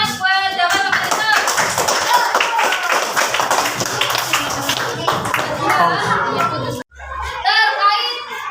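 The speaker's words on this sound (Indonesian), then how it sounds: "Kalian tepuk tangan buat Dapat Bapak itu." A classroom of children claps their hands together in a sustained, loud round that goes on for several seconds, with young voices chattering over it and a brief pause near the end.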